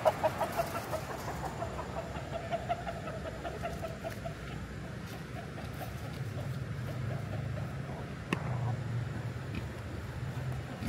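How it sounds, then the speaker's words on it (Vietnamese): A chicken clucks repeatedly beside a fast, flood-swept stream in a landslide-hit mountain village, its calls cutting through a constant rushing roar of water. "Cái gà ấy."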